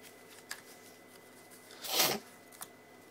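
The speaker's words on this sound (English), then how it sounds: "Get all these code cards out the way." Trading code cards from opened card packs being gathered and shuffled aside, a soft papery swish swelling near the middle with a couple of light taps before and after, quiet and close.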